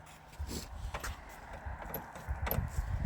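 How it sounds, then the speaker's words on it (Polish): Keys to a Ford Taunus 1.3 jangle and clink in short metallic bursts against a low rumbling background, with faint handling noises in between. "Wadzio, bierz klucze i otwieraj."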